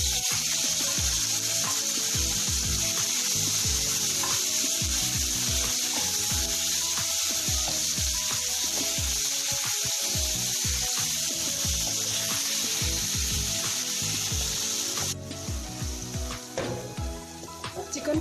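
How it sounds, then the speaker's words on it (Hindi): Marinated chicken for malai boti frying in a spoonful of oil in a pan, a steady close sizzle mixed with scraping and stirring sounds that thins out near the end. "1 खाने का चम्मच ऑयल लेंगे पैन में और मैरिनेटेड चिकन इसके अंदर हम डालेंगे"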